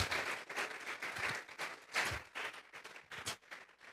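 Congregation in a church Bible-study service applauding as an offering of praise to God, a steady wash of clapping from many hands with a few louder bursts, moderately distant, with no talk over it.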